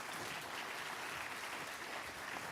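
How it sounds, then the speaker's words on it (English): A round of applause for educators fills a graduation ceremony hall, a soft, even wash of many hands clapping at a distance, steady and unbroken throughout. "Can I ask for a round of applause quickly to the people here?"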